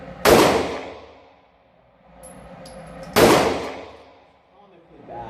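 Two loud, sharp gunshots from a shooting video game, about three seconds apart, each with a long decaying echo tail, with faint background noise between them.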